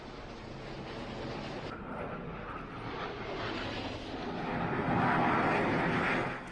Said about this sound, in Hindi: हवा में गड़गड़ाहट की ये आवाज दुश्मनों को डरा देगी।